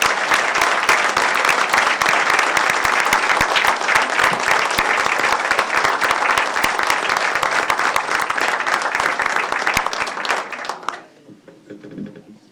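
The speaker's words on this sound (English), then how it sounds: "everyone give them a round of applause" An audience at a school board of education meeting applauds the 7th and 8th grade middle school band members, with loud, dense, sustained clapping that fades out near the end.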